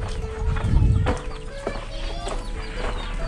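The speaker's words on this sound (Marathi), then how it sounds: "इकडे कोंबडी बरीच आहेत." Chickens cluck in a village, with a few short calls close by over a low, rumbling background and scattered farmyard noise.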